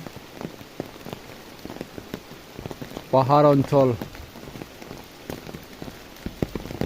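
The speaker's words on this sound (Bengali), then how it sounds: "বৃষ্টি পড়তেছে।" Steady rain patters onto surfaces in a hilly area, a continuous fine crackle of drops throughout, with a brief burst of speech-like voice in the middle and scattered louder drips.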